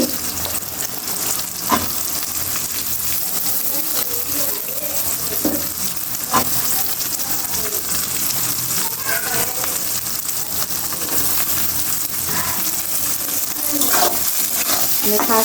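Onions and garlic fry in a pan with a steady, close sizzle. A few louder spatters and stirring scrapes come through, and there is no speech.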